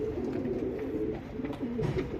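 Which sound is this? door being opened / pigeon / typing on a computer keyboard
pigeon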